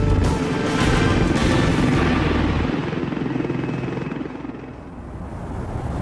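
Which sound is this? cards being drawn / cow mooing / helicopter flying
helicopter flying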